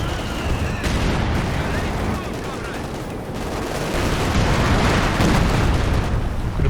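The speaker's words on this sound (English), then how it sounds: "Base howitzer fire" Howitzer artillery fire from a base emplacement in the Company of Heroes 2 strategy game, a dense, continuous roar of booms and blasts with overlapping impacts, loud throughout without pauses.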